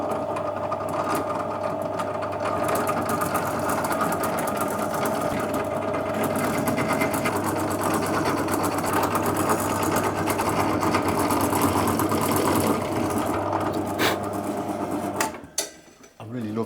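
Drill fitted with a Famag 8mm bit runs continuously with a steady mechanical whir and hum for about fifteen seconds, then stops abruptly with a few rattling handling noises, heard up close on a guitar build.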